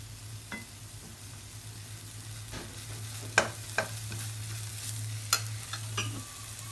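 Ingredients being stir-fried together in a pan for a toddler's spinach dish, a steady low sizzle broken by sharp spatula scrapes and clinks against the pan, fairly faint and close, with no talking.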